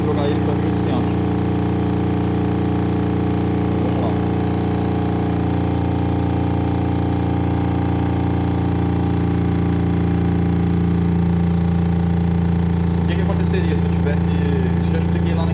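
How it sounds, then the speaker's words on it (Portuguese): An induction motor drives a DC generator at 1700 RPM, giving a steady, loud electrical hum and whine that continues without pause and stays constant throughout. "a velocidade nominal do motor de indução é 1700"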